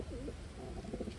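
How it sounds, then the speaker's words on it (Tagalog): A pigeon coos in a soft, low rolling series of two or three phrases, close and alone with no talk. "Kakakuha ko lang mga kalapatids."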